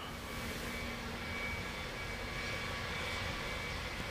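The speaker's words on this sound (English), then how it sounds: "Just going to start up the airplane here." A King Air's engines spin up in a home cockpit flight simulator, a steady low roar with a faint high whine that holds even and continuous throughout, with no voices.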